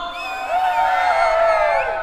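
Carnival crowd at an outdoor Bomanxotha celebration in Tecozautla, Hidalgo, raising a sustained wash of shouting and cheering voices that swells midway, loud and close, with no distinct speech on top.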